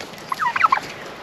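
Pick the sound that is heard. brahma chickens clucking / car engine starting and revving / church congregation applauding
brahma chickens clucking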